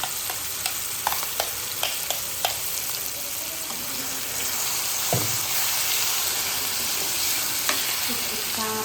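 Steady hiss of hot oil sizzling in a pan as ridge gourd and tomato chutney is tempered, with occasional stirring scrapes and clinks close by.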